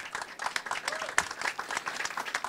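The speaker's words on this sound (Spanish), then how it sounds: "Aplauso" An audience at a startup networking event and fireside chat panel in Santiago, Chile applauds, a short burst of dense, close clapping from a modest crowd.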